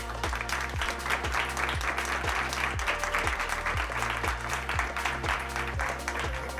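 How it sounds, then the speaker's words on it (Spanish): An audience at a live law-careers podcast event applauds, dense sustained clapping from many hands throughout, with music-like tonal layers underneath. "Por favor, un aplauso."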